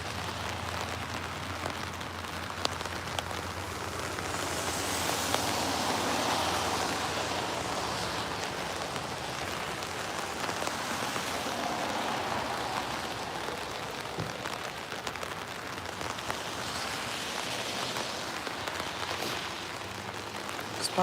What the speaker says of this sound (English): Despite the rain,